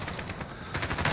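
A CX-9 submachine gun fires in Modern Warfare, a loud rapid automatic burst of evenly spaced shots lasting just over a second.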